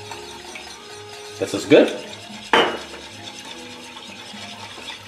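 Salad dressing of vinegar and extra virgin olive oil being stirred in a bowl, with a couple of sharp utensil clinks against the dish over low kitchen background noise and a brief spoken remark.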